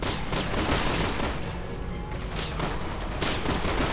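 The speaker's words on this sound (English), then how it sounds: "the guy shooting a gun" Rapid gunfire in Resident Evil 6, dense overlapping shots crackling continuously for the whole stretch, loud and close with no talking.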